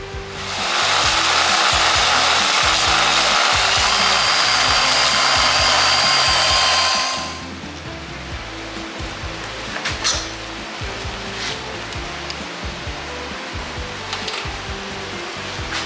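A Milwaukee lathe cuts down a tractor hub, a loud steady grinding, rasping whir for about seven seconds that stops abruptly, leaving quiet shop noise with a few faint clicks.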